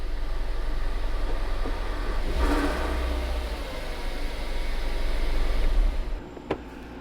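Ford Focus ST engine idling and running steadily just after a restart, a continuous low rumble with a brief rev swell partway through, then cutting out near the end.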